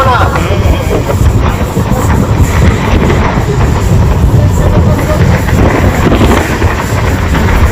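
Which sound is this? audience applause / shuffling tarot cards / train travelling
train travelling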